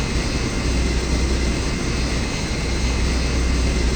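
Steady, loud jet engine roar from the right AI-25 engine of a Yak-40 airliner in a flight simulator, running stabilized after start with a constant broadband whine and no talk over it.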